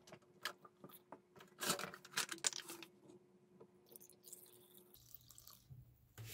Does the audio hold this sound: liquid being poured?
yes